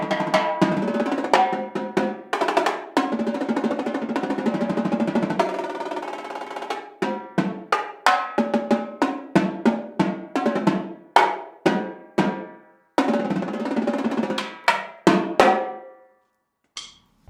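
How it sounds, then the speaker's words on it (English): A run of sharp, pitched marching tenor drum hits, some rapid and rolling, others struck singly with ringing decay, played loudly and close with brief pauses between phrases. "These are marching tenor drums. They sound like this."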